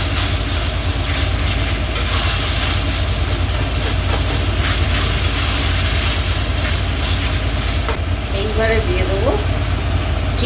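Chicken kosha sizzles loudly in a pan as capsicum, chopped tomato and slit green chillies are stirred in, a dense, steady frying hiss that runs without pause.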